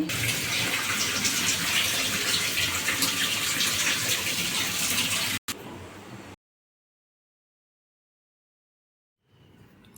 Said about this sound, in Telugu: వాటర్ అయితే పోసుకోవాలి పై పైన